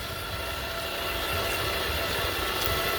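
Scale SCX6 RC crawler with twin brushless motors on 3S running at full throttle, producing a steady, continuous motor whir and drivetrain hum with no breaks.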